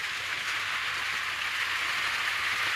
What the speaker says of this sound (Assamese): পানী পৰিছে দেখোন ওপৰৰ পৰা